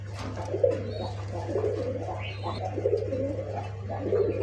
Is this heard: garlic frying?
no